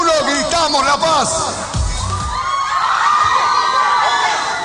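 A large crowd of excited fans, many of them girls, shouts "La Paz" together on cue at a concert event in Bolivia, loud and sustained, with overlapping screams and cheers filling the whole stretch.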